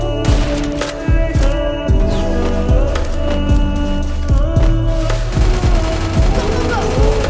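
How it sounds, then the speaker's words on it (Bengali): Rapid bursts of gunfire in the Free Fire video game, loud repeated shots with a steady rhythmic pattern throughout, close and dense, with a background music or game tone underneath. "আমার গান দিয়ে ফায়ার করতেছিলাম"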